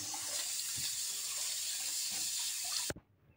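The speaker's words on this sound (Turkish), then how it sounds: "Havuçlarımızı yıkadık" Carrots are washed under a running kitchen tap, making a steady close splashing hiss that cuts off abruptly near the end. No one speaks.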